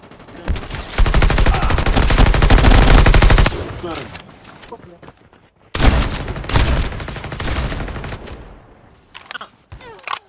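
Video game gunfire comes in two long bursts of rapid, loud automatic fire, each trailing off into scattered shots and echoing tails, separated by a brief lull.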